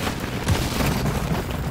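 Semtex grenade exploding in Call of Duty MWIII, a dense, continuous low rumble of booms and gunfire filling the whole moment without a clear single blast.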